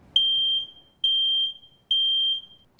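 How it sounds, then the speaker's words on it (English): A household smoke detector sounds three long, loud, piercing beeps separated by short gaps, in an otherwise quiet room with no voices. "Smoke detectors and carbon monoxide detectors are designed to save lives, but they can only work if the people inside the home hear them."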